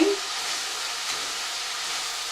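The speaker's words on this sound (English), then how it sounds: "just generate a little bit of steam and soften them a bit" Steady soft hiss of steam rising from sautéed greens in a covered pot on the stove, continuous and even after a brief clink at the start, with no talking.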